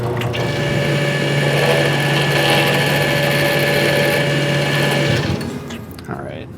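A drill bores a starter hole through a metal bracket for a 1951 Dodge B3B truck, a steady close whine for about five seconds before it winds down and stops.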